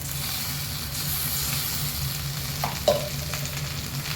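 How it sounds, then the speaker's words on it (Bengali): Mustard and green chilli spice paste hits a hot pan for a drumstick curry, giving a continuous close sizzle with a brief clatter and stir near the end. "এবার এই তৈরি করা পেস্টটা এর মধ্যে ঢেলে দিলাম"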